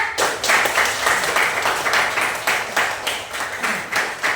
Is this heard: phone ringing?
no